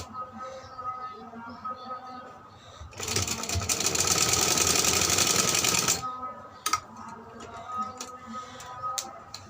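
A sewing machine stitching a baby frock runs in one close, loud burst of rapid mechanical whirring for about three seconds, with quieter room sounds and a soft voice before and after.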